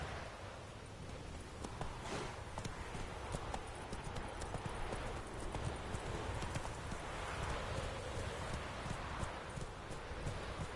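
Roach, Geralt's horse in The Witcher 3, gallops in a steady, continuous clip-clop of hooves over outdoor ambience, fairly close and even in loudness.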